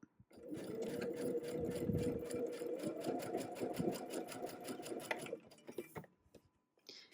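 A sewing machine stitches quilt pieces for a Tula Pink Butterfly quilt in one steady, rapid run of several seconds, then stops and leaves a few faint clicks and handling sounds.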